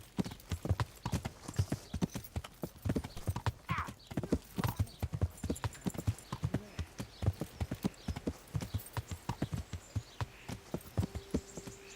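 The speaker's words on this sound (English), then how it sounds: "don't run people over with your horse" Horse hooves clip-clopping in a video game, an even run of crisp, close hoofbeats at a steady walking-to-trotting pace, with a brief whinny partway through.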